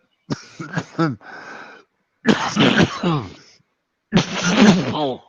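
A loud fit of harsh, strained coughing and throat clearing from a chip stuck in the throat, in three bursts separated by short pauses, close to the listener.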